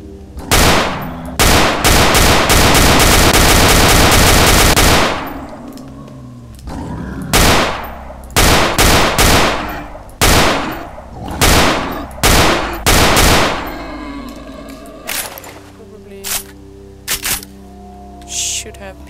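Video game gunfire, fired in and around mines: a long sustained burst of rapid shots, then repeated short bursts and single loud cracks with pauses between, close and harsh, ending in sparse scattered shots.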